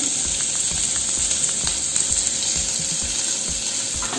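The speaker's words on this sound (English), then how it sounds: "Now I am going to add 2 chopped onions, just cut into straight" Two chopped onions sizzle and fry steadily in a hot pan, a continuous close hiss with faint crackles and no talking.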